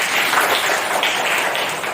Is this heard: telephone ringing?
no